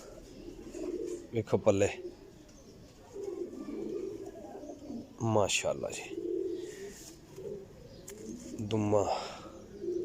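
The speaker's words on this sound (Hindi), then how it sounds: "टैडी गोल्डन कबूतर है माशाल्लाह" Teddy Golden pigeon cooing softly in a loft, low bursts rising a few times amid steady chatter, with people talking over it.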